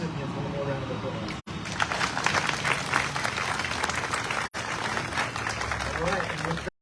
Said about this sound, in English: We should give all the recipients one more round of applause